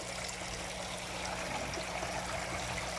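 Steady water from a pump runs into a drum filter on a small plywood fishpond lined with tarp. The flow is continuous and close, with no talking.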